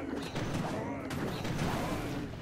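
A scattershot defense in Clash of Clans fires on a yeti, a dense, continuous crackle of rapid shots and clanking mechanisms, loud and close, with a voice talking faintly over it.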